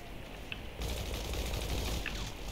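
Rapid bursts of gunfire from a video game, a dense rattling stream that kicks in after a short quiet moment and keeps going steadily.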